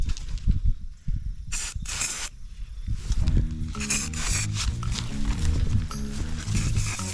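Scent spray hissing in short bursts around a big buck decoy outdoors during a bowhunt, several close spritzes with rustling and handling noise between them.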